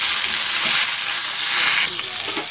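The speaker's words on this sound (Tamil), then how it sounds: "இப்போ நம்ம இந்த கீரையும் போட்டு நல்லா மிக்ஸ் பண்ணிக்கலாம்." Vallarai greens being stirred with spices in a hot pan, giving a steady broad sizzle with soft scraping movements throughout, close and fairly loud, no talking.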